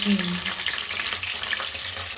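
Cooking in a worn, well-used wok at a home kitchen gathering, a soft continuous sizzle with light stirring scrapes at moderate distance, with a brief voice at the start.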